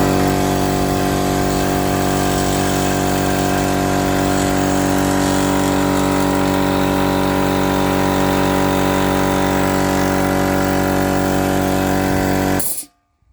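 A cheap eBay air compressor runs with a loud, steady mechanical drone and a rattling engine-like buzz. It stays constant for about twelve seconds, then abruptly cuts off into silence.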